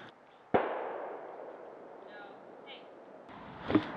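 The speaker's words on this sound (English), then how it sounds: "Somebody's shooting a gun right over that hill." Gunshots from just over a hill near a burned ghost town: one sharp, distant report with a long, echoing decay, then a second, softer shot a few seconds later, in an otherwise quiet outdoor setting.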